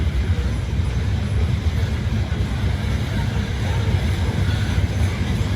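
Loaded coal train rolling past close by, a dense, continuous low rumble and rattle of railcars with no break, loud and steady throughout.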